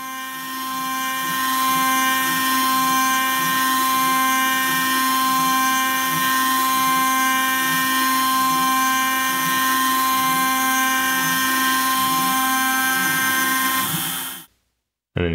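An OpenBuilds Minimill spindle whines loud and steady while milling countersinks in a heavy block of aluminum, a sustained tonal drone with a faint rhythmic pulse that stops abruptly near the end.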